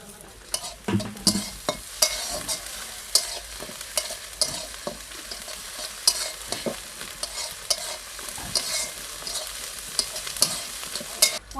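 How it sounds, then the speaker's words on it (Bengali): Chopped onions, bay leaves and ginger-garlic paste fry in oil in a wok, a steady close sizzle broken by repeated scraping stirs of a utensil against the pan. "কড়াইতে আমি কুচানো পেঁয়াজগুলো দিয়ে দিচ্ছি। দুটো তেজপাতা দিয়ে দিচ্ছি। আদা রসুন বাটাটা দিয়ে দিলাম।"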